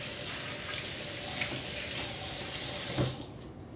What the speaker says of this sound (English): I'm going to give my hands a quick wash from touching the meat.